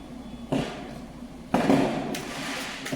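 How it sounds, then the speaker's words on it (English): Fireworks go off outdoors at a distance, two sharp booming pops about a second apart followed by a fainter crackle, with a low rumble in between and no talking. "Pardon the fireworks in the background"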